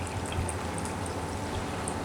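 Mineral water pours steadily into a container during an ionizer demonstration, a soft continuous splashing stream that is fairly quiet and has no voices over it.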